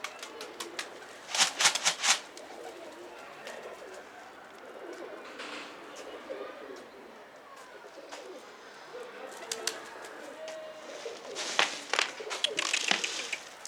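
Pet pigeons kept in a loft coo softly and repeatedly, with occasional bursts of wing flapping, the coos coming in a few louder clusters over a faint background.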